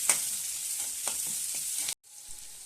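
Chopped onions and ginger sizzle and fry in a pan for cauliflower masala gravy, a close, steady crackling hiss with light stirring knocks, which cuts off abruptly before quieter sizzling resumes.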